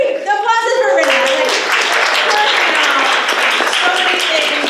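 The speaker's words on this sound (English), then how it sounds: "Everybody, applause for Renna." A voice speaks for about a second before audience applause takes over, with hands clapping loudly and continuously for a presenter in a close, full-sounding room.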